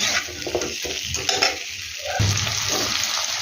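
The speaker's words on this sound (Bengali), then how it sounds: "1-2 মিনিট এটাকে একটু নাড়তে হবে, কারণ একটু হলুদের গন্ধ করবে" Spices with turmeric and salt being stirred in a hot pan for pona fish curry, a continuous sizzle with scraping strokes of the spoon against the pan, close and fairly loud, no voices.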